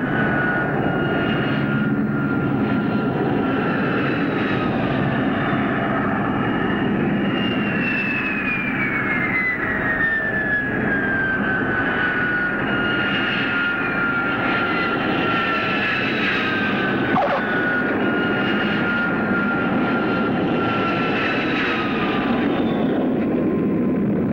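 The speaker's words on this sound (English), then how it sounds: "That's what I call a perfect landing." Jet airplane landing on a runway in a 1951 film scene, a loud, sustained engine roar with a whine that slides downward in pitch, continuous for the whole stretch with no voices.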